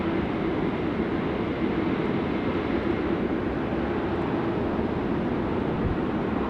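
A Qantas airliner takes off from runway 16 Right at Sydney Airport, a broad, steady jet roar that holds loud and constant throughout with no voices over it.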